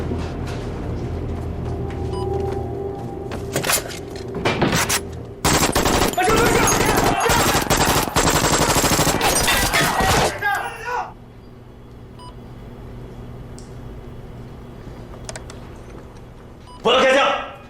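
Gunfire erupts in a TV spy drama, with a loud sustained burst of rapid automatic shots in the middle, followed by quieter ambience and a brief sharp noise at the end.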